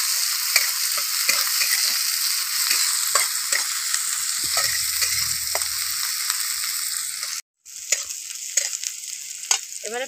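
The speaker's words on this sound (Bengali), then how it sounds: "পেঁয়াজটা একটু ভালো করে ভেজে নেব।" Sliced onion with whole cumin fries in hot oil, a strong steady hiss with scattered crackles and stirring clicks, close up, briefly cutting out for a moment before resuming; nobody speaks.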